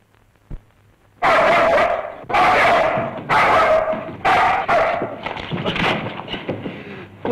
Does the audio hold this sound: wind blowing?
no